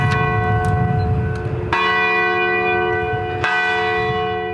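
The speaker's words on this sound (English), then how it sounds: "The bells at Humboldt St. Augustine Church tolled 29 times, once for each victim." Bells of St. Augustine Church in Humboldt, Saskatchewan, tolling for a memorial anniversary; two loud, ringing strikes about two seconds apart, each leaving a long, shimmering hum that slowly fades, with no voices.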